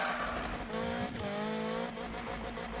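A car in the racing video game Need for Speed roars with a loud, steady engine drone that rises in pitch, while a brief tire squeal cuts in near the middle.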